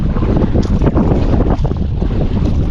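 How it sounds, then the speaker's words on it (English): Strong wind buffeting the microphone on a fishing boat heading toward a waterfall, a loud, steady roar of gusting noise and low rumble with no gaps and no talk. "Fighting against the wind to get up here by the waterfall."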